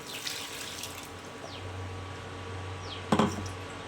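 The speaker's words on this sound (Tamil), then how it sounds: "நம்ம தண்ணி சேர்த்துக்கலாம்." Water trickles and splashes softly in a continuous stream into a wet grinder holding lentil batter, over a low background hum, with a brief clatter near the end.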